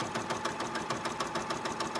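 A Brother Persona PRS100 embroidery machine stitching a placement line on iron-on stabilizer, a steady fast mechanical needle chatter with regular rhythmic pulses, close and continuous with no talk.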